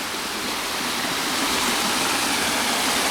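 A rain-swollen stream rushes on wet ground beside a rock wall, a loud, steady broadband roar of flowing water that holds constant throughout with no talk.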